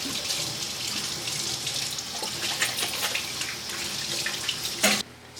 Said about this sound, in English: I should wash my hands in between doing this